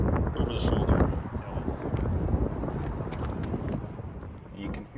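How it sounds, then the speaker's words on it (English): Wind whipping across the microphone at a disc golf course in Zilker Park, Austin, Texas, a continuous rough rumble and buffeting that swells and fades, with faint talk in the background. "You can hear the wind kind of whipping."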